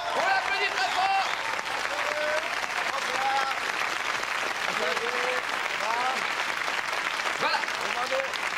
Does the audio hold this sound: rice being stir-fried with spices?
no